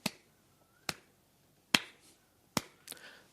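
Sharp, dry claps or snaps spaced about a second apart in a steady rhythm, each one crisp and isolated against a quiet background, with a faint rustle near the end.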